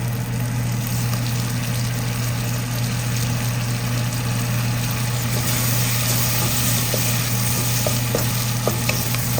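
Tomatoes fry in a pan for pappucharu, a dense, even sizzle that holds loud and close throughout, with a constant low engine-like hum beneath and occasional faint clicks near the end.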